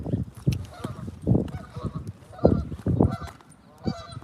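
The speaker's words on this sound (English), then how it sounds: "It's Canadian geese, guys." Canada geese honk repeatedly outdoors in loud, irregular bursts, with a person's voice partly overlapping the calls.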